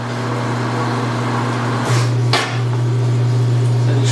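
A Precision Matthews 1640 metal lathe runs with a steady motor hum while drilling metal, and its pitch shifts partway through as the cut changes, with a couple of brief sharp knocks.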